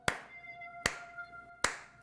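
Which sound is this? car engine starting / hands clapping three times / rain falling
hands clapping three times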